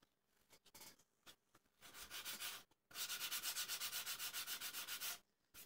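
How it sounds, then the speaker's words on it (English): Sandpaper rubs across a seam in short, close strokes that build into a quick, even run of rhythmic scrubbing, then trail off into a few lighter passes. "So while all this on the seam is drying, I can take some sandpaper here"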